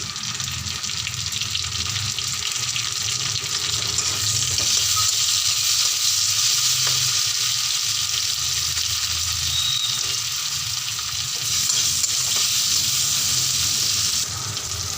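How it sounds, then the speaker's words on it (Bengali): Onions sizzle steadily in a hot pan, with occasional scraping and stirring sounds over the continuous frying hiss. "এটাকে ভালো করে নাড়াচাড়া করতে হবে। পেঁয়াজ যখন লাল লাল করে ভাজা হয়ে যাবে"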